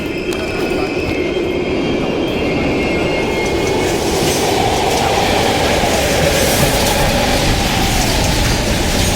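A train rolls through an abandoned East German subway station in the Call of Duty: Black Ops Cold War video game, a loud, steady rumble with rattling wheel clatter and squeal filling the whole stretch.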